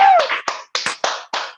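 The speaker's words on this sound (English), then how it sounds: "clap for Trizzy Stacks." A handful of people clapping over an online call, about six separate sharp bursts spaced unevenly, close and fairly loud with brief silences between.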